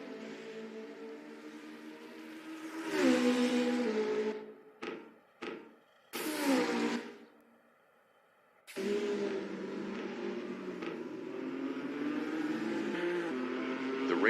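A McLaren race car in a virtual racing game, its engine droning steadily with rising revs, then a few short bursts and a brief near-silent gap before the engine note returns and holds, no talk over it.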